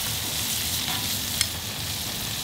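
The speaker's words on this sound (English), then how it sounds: "I'm gonna use my tongs and just toss these little guys" Onions on a hot grill give off a steady, loud sizzle as tongs toss them, with one brief metallic click partway through and no voices.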